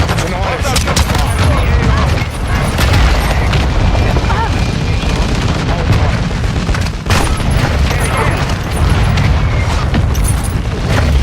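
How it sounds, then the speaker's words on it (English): Friendly mortar strikes land in a military shooter video game, loud rolling booms mixed with gunfire, with voices talking over the din. "Friendly mortar strike on the way."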